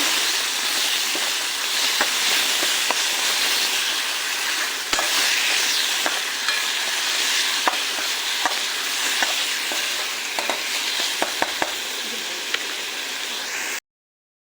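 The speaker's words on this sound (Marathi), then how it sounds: "त्याच्यावर टाकलं आपलं कांदा मटण, त्याचं परतून घेतलं" Onion and mutton sautéing in a pan, a loud, dense, unbroken sizzle with scattered clicks and scrapes of stirring, close and steady until it cuts off near the end, with no talking.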